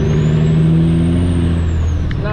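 A heavy truck hauling an oversized, overweight Cat D8K dozer slows to a stop on the road, with its loud engine droning steadily close by and a short air-brake hiss near the end.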